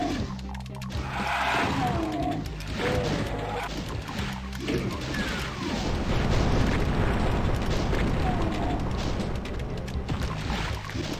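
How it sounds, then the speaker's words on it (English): Enemies bursting apart in Doom on ultra violence, with loud crashing, splattering blasts layered over constant game noise and rumbling effects. "Every now and then you one shot and they explode."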